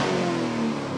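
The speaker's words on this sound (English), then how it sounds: "Crackle there is just unbelievable" A Lamborghini Urus engine revs with a steady, loud mid-pitched drone, alone and close, over one short burst without any distinct crackle pops standing out.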